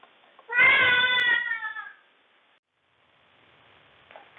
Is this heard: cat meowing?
yes